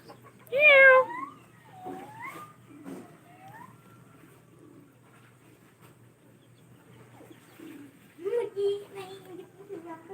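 A cat meows several times, one loud cry followed by softer mews, with quiet voices and background noise in between.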